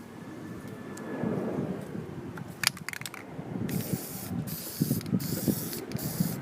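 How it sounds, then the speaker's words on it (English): A spray paint can sprays red touch-up paint outdoors in a hissing, windy setting, in short bursts with a faint airplane passing overhead. "and then start spraying"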